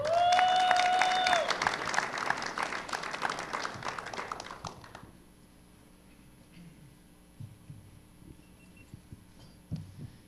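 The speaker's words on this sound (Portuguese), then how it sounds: "recebam com uma salva de palmas o pastor Fábio Mica" An audience applauds as a pastor is welcomed on stage, a burst of clapping that fades out after about five seconds into quiet room tone, with a brief tone sounding at the start.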